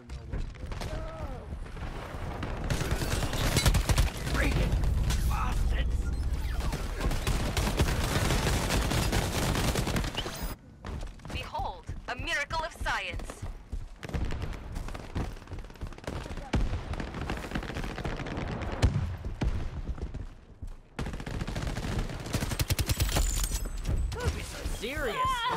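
Rapid automatic gunfire in the video game Shatterline, loud sustained bursts with brief pauses, firing continuously over game sounds for most of the stretch.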